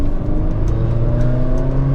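A Mazda MX5 NC fitted with a K&N induction kit, its engine revving loud and close with a steady throaty drone and a rising whir, alone without talk.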